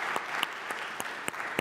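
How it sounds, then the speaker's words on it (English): An audience at an energy and climate forum plenary in Vienna claps, a moderate steady patter with a few sharp nearby claps standing out over the crowd. "we can definitely have a round of applause for that."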